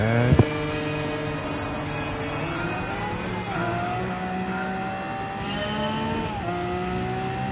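Race car engine in the Gran Turismo video game on PS5, a 667-horsepower machine revving and shifting with rising and falling tonal whine, steady and prominent, after a brief knock at the start.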